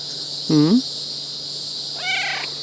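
A cat meows twice, a close, clear call followed by a shorter, higher one a second and a half later, over a faint steady hum.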